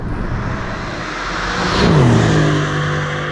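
A 2020 Mercedes-AMG GLC63S Coupe driving up a road, its engine droning steadily and then swelling into a louder rising rev before settling, heard close from inside the car.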